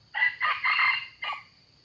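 A young red junglefowl in a jungle setting crows nearby, with a clear multi-part call of about three segments, then a short trailing note and quiet.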